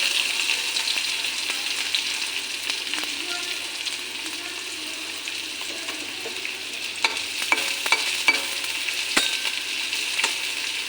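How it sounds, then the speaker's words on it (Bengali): Chopped onions frying in a pan of oil for a savory spiced semolina dish, giving a steady close sizzle throughout with scattered stirring clicks and scrapes near the end, no talking. "পেঁয়াজটা একটু হালকা করে ভাজা করে নিই"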